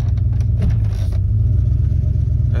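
The 5.2-liter V8 of a 1994 Dodge Ram idles with a loud, deep, steady rumble just after fuel injector replacement, close and continuous, with no talk.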